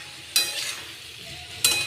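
Potatoes and pointed gourd stir-frying in a pan with black pepper, giving a steady low sizzle broken by two sharp bursts of scraping and stirring, close and fairly loud.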